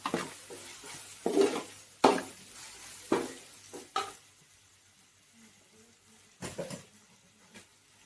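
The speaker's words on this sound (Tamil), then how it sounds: "தக்காளி சேர்த்து தக்காளி கொஞ்சம் நல்லா வதக்கணும்" Tomatoes are stirred and sautéed in a pan for a vada curry, with several sharp clatters of a spoon against the pan over a faint sizzle, the strokes coming irregularly before quieter stretches.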